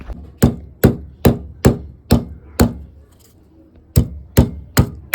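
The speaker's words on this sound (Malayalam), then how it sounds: "ഇനി നമുക്കാണെങ്കിൽ വെളുത്തുള്ളി, ഇഞ്ചി അങ്ങനെയുള്ള സാധനങ്ങളെല്ലാം ഇടിച്ചെടുക്കാം." Garlic and ginger get pounded for a home-cooked Kerala beef dish, ten sharp, close, evenly spaced thuds with a brief pause before the last three blows.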